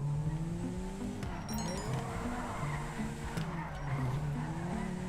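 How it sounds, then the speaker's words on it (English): Japanese drift car tires squealing in GTA V Online, a sustained screech over a revving engine that wavers and rises across the clip, loud and close. "Japanese drift cars."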